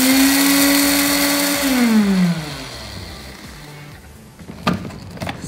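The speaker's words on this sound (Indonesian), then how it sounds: "Jintan dan adas wanginya mau kita blender." Electric blender grinding cumin, fennel, coriander seeds and nutmeg into spice powder, a loud steady whir that winds down after about two seconds, followed by faint handling clatter in a kitchen.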